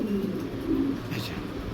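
A male racing pigeon coos softly and low, close by, in one short rolling call.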